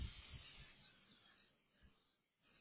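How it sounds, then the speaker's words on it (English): Cooking spray hissing from a can onto a ridged grill pan heating on a stove, a soft steady spray that fades and briefly returns at the end, quiet and close. "So I'm going to spray this grill pan."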